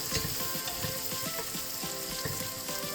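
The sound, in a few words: sautéing onion and garlic in a pan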